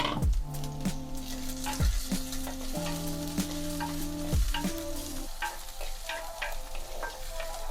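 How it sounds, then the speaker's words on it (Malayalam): Curry leaves and shallots sizzle and crackle in hot oil for a salmon fish curry, with a spoon scraping and stirring through the pan over the steady fry. "ഞാൻ കുറച്ച് കറിവേപ്പില കഴുകി വെച്ചിട്ടുണ്ടായിരുന്നു, അതും കൂടെ ഇടുവാണ്."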